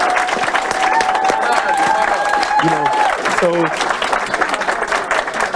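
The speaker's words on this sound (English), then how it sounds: "let's give a round of applause for these young men and these young women" A crowd at a high school signing day ceremony applauds and cheers loudly and continuously for student athletes, while a voice speaks briefly over the clapping.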